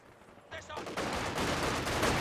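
MG42 machine gun fire in the World War II strategy game Company of Heroes 2, a faint rapid burst that swells into a dense continuous crackle of gunfire at low level.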